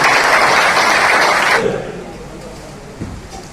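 An audience applauds in a loud, dense burst to welcome Om Prakash Dhankhar, then cuts off abruptly after about a second and a half, leaving a quieter hall.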